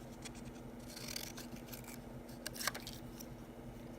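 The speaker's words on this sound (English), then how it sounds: "Let me cut those a little bit smaller." Small scissors snip paper into tiny pieces for a kindergarten owl craft, a series of short crisp cuts with one louder snip near the end, close and quiet.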